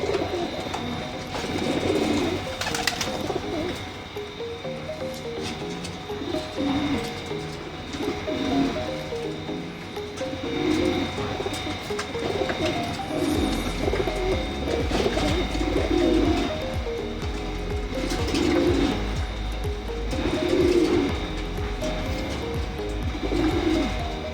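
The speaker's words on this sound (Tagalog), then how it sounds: "Nag-uwian na mga loko nating kalapate, mga sagalaan." Pigeons cooing steadily in a repeating rhythmic pattern after flying back home to their coop, with a moderately close, continuous chorus of coos and faint rustling in the background.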